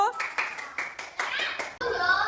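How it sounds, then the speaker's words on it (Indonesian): Children in a classroom clap their hands together in a quick rhythmic pattern of about eight sharp bursts, close by, with young voices chattering over the claps. "beri tepuk tangannya dulu"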